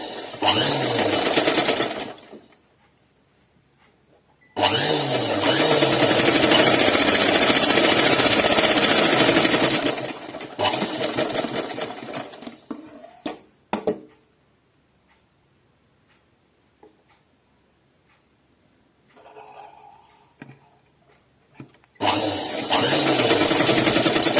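An electric sewing machine stitches a collar neck dress in loud, steady whirring runs of several seconds, broken by quiet pauses with faint handling clicks and small rustles.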